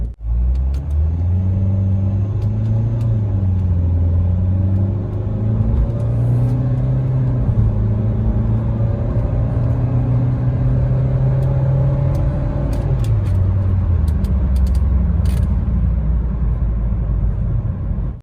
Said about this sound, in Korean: 그러면 100km 급가속 한번 해볼게요